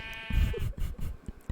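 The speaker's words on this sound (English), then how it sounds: "I forgot how loud the sheep can be." Sheep in the Minecraft video game bleat several times in quick succession, fairly loud and close, with short wavering calls and no talking.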